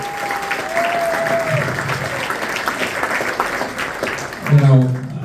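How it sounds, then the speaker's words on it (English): Wedding guests at a reception applauding the maid of honour during the speeches; steady crowd clapping with a whistle early on and cheering voices rising near the end. "A big applause for Valerie."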